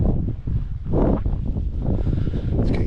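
Wind gusts buffet the microphone on a breezy hilltop above Barmouth, a loud continuous rumbling roar that swells and eases in waves, with no one speaking.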